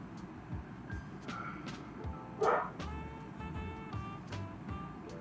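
A dog barks repeatedly in uneven, yelping bursts, moderately close, over low background rumble and noise, with one louder bark standing out in the middle.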